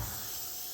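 A one-handed airbrush spraying paint gives a short, soft, steady hiss, faint and alone.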